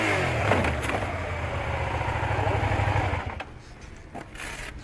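A racing motorbike engine revs hard while left out of gear, a loud buzzing drone with harmonic rises that cuts off abruptly near the end, leaving a quieter rumble.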